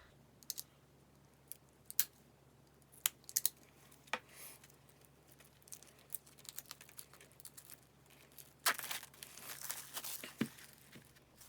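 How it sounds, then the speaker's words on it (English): Plastic wrapping crinkles and tears as a tarot deck is unwrapped nearby, with scattered sharp clicks and rustles building into a louder burst of crumpling toward the end, no voices. "They are also in plastic, so let me get them out of that."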